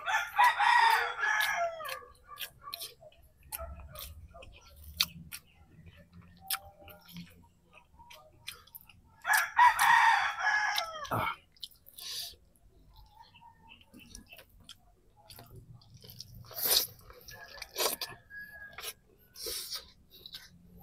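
A rooster crows twice, moderately distant, with long quiet gaps and scattered small ticking and rustling sounds between the calls.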